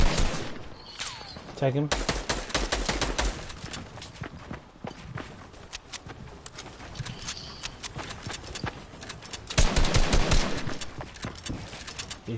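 Fortnite gunfire in a duo match, sharp bursts of shots cracking out in clusters alongside scuffling footsteps, with players talking over the action.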